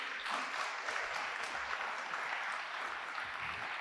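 Steady applause from an audience at an HR and hiring trends presentation, a dense even patter of many hands clapping throughout, moderately distant with no speech over it.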